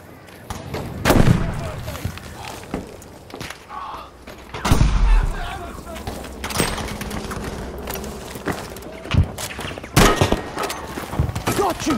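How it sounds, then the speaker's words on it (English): Grenade blasts and gunfire in a shooting video game, with heavy booming thumps and bursts of shots scattered over a dense battle din, while voices talk intermittently. "Grenade going out."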